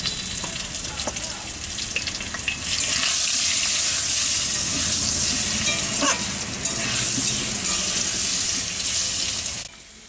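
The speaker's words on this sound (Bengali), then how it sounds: "রিফাইন তেল দিয়ে এর মধ্যে আলুগুলোকে ভেজে নেওয়া হচ্ছে" Parboiled potatoes with turmeric and salt fry in refined oil in a kadai for chicken biryani, a loud continuous sizzle up close with occasional stirring clatter, which cuts off abruptly near the end.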